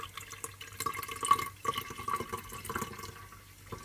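Beetroot and strawberry juice flowing through a strainer, a soft, close trickle with light drips and splashes.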